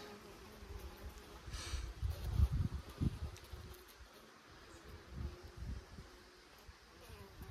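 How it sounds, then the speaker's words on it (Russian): Honeybees buzzing at a hive of late splits on a windy day, faint drifting hums with occasional louder passes and rustling, no talk. "Пчелочка."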